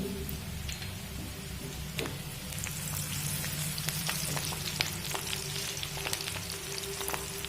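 Chopped green chilies fry with ginger and garlic in a pan for dhaba-style chili chicken, a steady low sizzle dotted with sharp crackles and pops.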